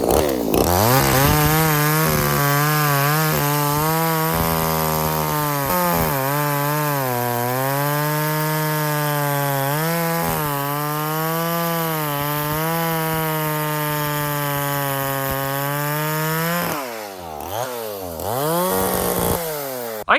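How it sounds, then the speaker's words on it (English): A two-stroke chainsaw running on vodka with no bar oil cuts into a tree, its engine buzzing loud and close in a sustained, wavering drone that dips briefly near the end before revving again. "The saw actually did pretty good for running on vodka."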